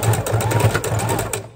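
Sewing machine stitching a junk journal snippet strip runs in a fast, steady mechanical whir with a rapid needle rhythm, close and continuous before easing off at the end.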